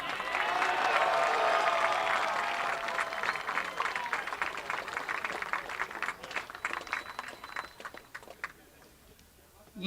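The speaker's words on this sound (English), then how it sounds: "Let's have another round of applause for these fine student athletes" A crowd applauds and cheers at a men's lacrosse championship between Lynchburg and Randolph-Macon, loud clapping fading into scattered claps with some voices mixed in.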